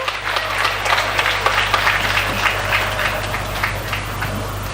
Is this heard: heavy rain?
no